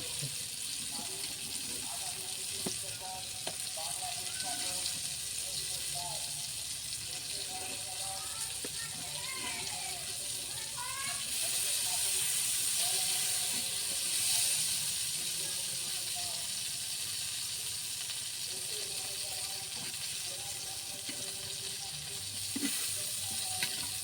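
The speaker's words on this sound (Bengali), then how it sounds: "বেগুনগুলো সুন্দর করে লাল লাল করে ভাজা হয়ে ঠিক তুলে" Eggplant slices fry in hot oil with a soft continuous sizzle and hiss, faint throughout, while a person talks over it and a few chirping sounds come in the middle.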